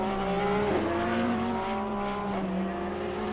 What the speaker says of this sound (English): You can hear the Porsche in the foreground there.